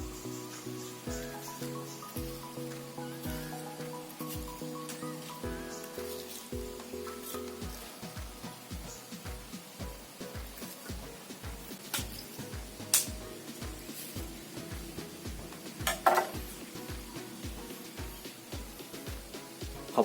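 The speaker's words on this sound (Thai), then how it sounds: "ผมจะทำการหั่นนะครับ เนี่ยครับ หั่นฟึบฟึบ" Repeated short cutting strokes land in a steady rhythm, crisp Kiwi kitchen knife chops slicing pineapple against a board, close up, with a faint musical bed underneath.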